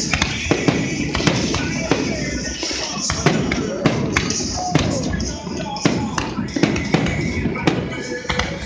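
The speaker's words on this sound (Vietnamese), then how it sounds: "More fireworks." Fireworks at an Independence Day show in Charlotte, North Carolina, pop and thud in frequent irregular bursts amid continuous crowd rumble and distant talk.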